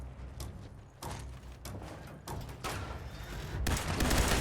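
Gunfire in the video game Fallout 76, a series of sharp reports and heavier booms at an uneven pace, growing louder and denser toward the end.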